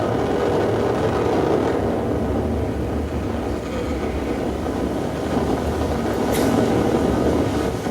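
Water rushes past a tag attached to a whale as it lunges to engulf krill, a loud, continuous low roar of flow noise that swells and eases slightly over several seconds.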